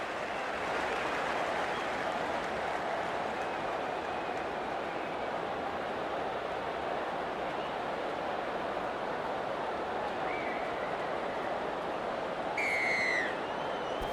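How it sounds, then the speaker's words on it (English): A stadium crowd at a rugby league kickoff roars as one steady broad wash of cheering, constant in level throughout, with a brief whistle-like chirp near the end. "The crowd goes up with a kickoff."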